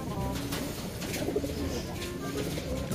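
Racing pigeons in a loft before a toss release, cooing softly and repeatedly at close range over a low ambient background.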